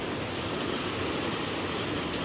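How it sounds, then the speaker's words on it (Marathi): Heavy monsoon rain in Pune pours steadily and loudly, forming a dense, unbroken wash of drops with no pauses and no voices. "इथं कंटिन्यू सेम पाऊस आहे"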